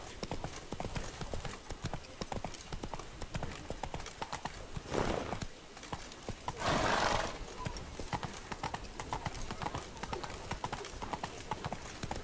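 A horse gallops in the video game The Witcher 3: Blood and Wine, with steady loud clip-clopping hooves over a dense game soundscape and a brief whinny partway through.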